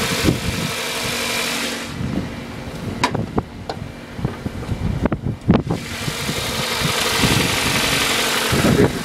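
A 2005 Toyota Corolla CE engine idles steadily under the open hood, a low even hum with scattered clicks and knocks from handling nearby, and no speech.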